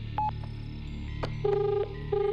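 An electronic telephone ringing tone on speakerphone, heard as short repeated beeps over a low steady hum, with no one speaking.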